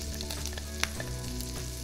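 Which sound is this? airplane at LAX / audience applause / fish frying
fish frying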